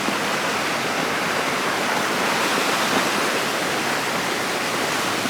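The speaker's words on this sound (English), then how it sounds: "And all the dry summer streams that come down this valley. Every single one of them's flowing at the moment." Valley streams running fast after a storm, a dense and steady roar of rushing water, loud and close, with no voices.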